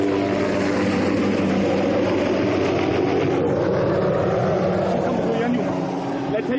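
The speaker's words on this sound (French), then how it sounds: "Le camion arrive à la hauteur des animaux capturés." A heavy truck engine rumbles steadily nearby on an African game reserve, idling or rolling slowly toward captured animals, with voices talking over it throughout.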